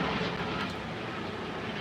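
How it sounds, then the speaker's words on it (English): A helicopter passes overhead, a steady broadband rotor-and-engine rumble that holds at an even loudness through the short stretch, with no talking. "There's another helicopter."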